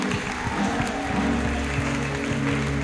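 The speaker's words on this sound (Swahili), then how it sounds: "pigie Bwana makofi na vigelegele." A church congregation at a worship seminar claps and ululates together, a dense steady wash of applause with high trilling voices, loud and close throughout.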